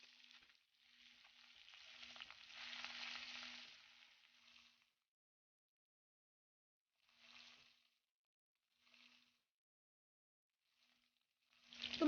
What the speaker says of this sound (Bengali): তো মাছটা ভাজা হয়ে গেছে,